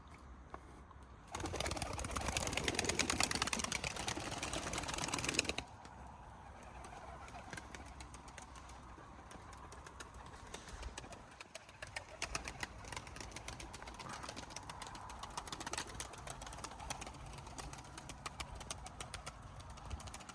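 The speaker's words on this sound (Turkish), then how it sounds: "kuşlar aşağıda pırıltıyı görünce hemen yerlerine indiler" Pigeons flutter and flap in a loud rush of wings, then settle into scattered wingbeats, soft coos and light clattering as they land.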